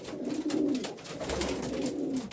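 Young racing pigeons coo close by while pairing off in closed nest boxes, a continuous run of low, rolling coos with no talk over them.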